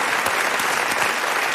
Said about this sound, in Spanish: Un aplauso para ella, que sí.